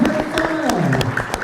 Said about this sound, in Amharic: እደዊክሙ አጨብጭቡ አጨብጭቡ